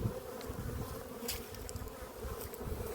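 Honeybee drones fill a hive with a steady, dense buzz, close and continuous throughout without any voices.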